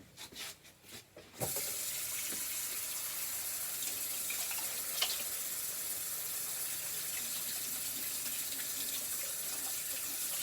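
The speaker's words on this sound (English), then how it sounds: "I think I'm just going to wash my hands off the side of the camera." A kitchen tap runs steadily while hands are washed under it after a few soft clunks, a close, even rush and splash of water filling the rest with no talking.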